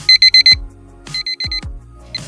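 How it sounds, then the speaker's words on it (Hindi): An alarm clock rings in rapid bursts of shrill electronic beeps, four quick pulses then further groups after short gaps, loud and close with low thumps between. "अलार्म की आवाज़"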